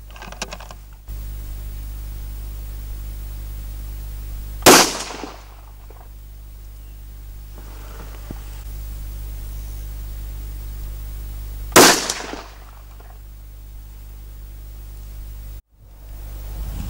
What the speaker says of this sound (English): Let's fire a couple of shots and see how we go.